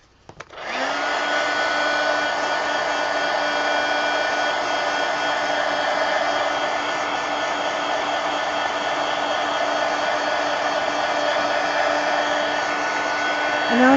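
A hair dryer blows steadily and loudly at close range to dry matte medium on a paper journal page, its steady whine running without a break after a brief start-up.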